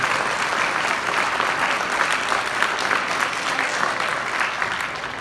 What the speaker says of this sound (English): So a big round of applause for the administration and for Southwestern City Schools.